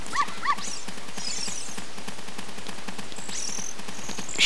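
A dog in The Legend of Zelda: Ocarina of Time yelps twice near the start, followed by a steady busy game soundscape of rapid tapping footsteps and bright chimes.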